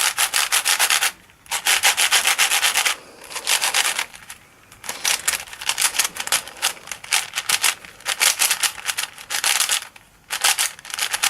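A new Yuxin magnetic skewb puzzle being turned for the first time produces close, rapid bursts of plastic clicking and rubbing, broken by brief pauses, with no talk.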